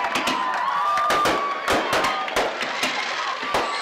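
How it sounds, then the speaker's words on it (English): Fireworks burst at a high school football game after a touchdown, a rapid string of sharp cracks and pops over a constant roaring crowd with some cheering and whistling tones. "And we get the fireworks again from Leach and Klein."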